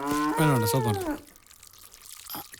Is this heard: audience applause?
no